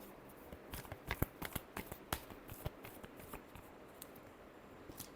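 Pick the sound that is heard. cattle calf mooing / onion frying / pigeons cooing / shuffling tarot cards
shuffling tarot cards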